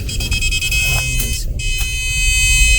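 A steady electronic beeping from a backup parking sensor buzzer on a Toyota, repeating in quick pulses over low vehicle rumble and faint background noise.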